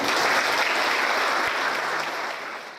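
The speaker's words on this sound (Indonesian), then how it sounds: "mari kita beri tepuk tangan yang meriah" Sustained, loud crowd applause fills a ceremonial hall at a retirement oration honoring Prof. Nurhajati Hakim, holding steady before tapering slightly toward the end.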